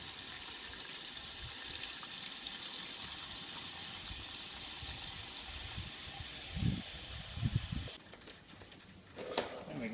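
Steady broadband rush of old water and coolant draining from a Holden SB Barina cooling system, pouring and splashing into a container, continuous throughout, with a few low thumps and clatters near the end.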